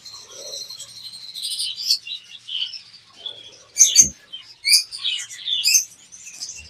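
Budgerigars chirp and tweet in an aviary, with dense overlapping high calls from several birds, a few louder bursts standing out near the middle and end, and no talking.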